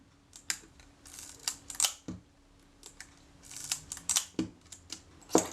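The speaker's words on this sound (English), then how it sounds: "Both the film release and the shutter release are moving smoothly." Kodak Retina IIIC camera being worked by hand, its shutter and film release mechanism clicking and snapping in a series of sharp, close mechanical ticks and clacks at irregular intervals, no talk.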